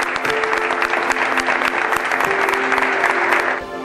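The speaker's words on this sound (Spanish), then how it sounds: "Sus compañeros le dedicaron un minuto de aplausos" Sustained applause from cast and crew on a telenovela set, a minute-long tribute to a colleague; dense, steady clapping close by with no voices over it, fading slightly at the very end.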